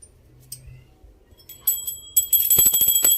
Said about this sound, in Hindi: घंटी बजाएंगे, ऐसे माता रानी को भोग लग जाएगा।